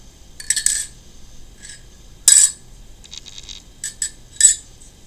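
Metal utensils clink and scrape against a dish while mixing, sharp separate chinks in small clusters with quiet pauses between them, close and crisp.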